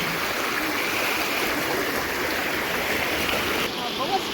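Rainwater rushes over a village road in a loud, steady flowing wash that stays constant from start to finish.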